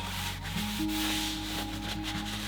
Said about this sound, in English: I'm just gonna give them a little kind of rub, just to take any excess stain off